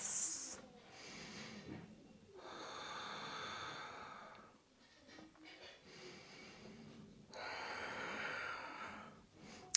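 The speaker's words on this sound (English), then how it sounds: "can you try and balance that out by taking some really slow, deep, expansive breaths?" Slow, deep breaths during a yoga flow, long airy inhales and exhales swelling and fading in several broad waves, close and soft with no talking.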